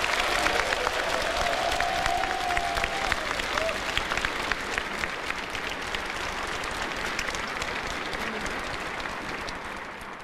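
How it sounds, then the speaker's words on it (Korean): Crowd applause for President Moon Jae-in at a Liberation Day ceremony, sustained dense clapping from a large audience with faint cheering, holding steady and slowly easing over about ten seconds. "의연하게 잘 대처하고 있는 문재인 대통령께 격려의 심찬 박수를"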